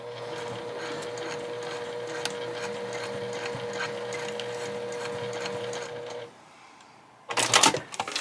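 A sewing machine stitches a hobo bag in a small studio, running as a steady, close mechanical whir for about six seconds before stopping, followed by a brief louder clatter.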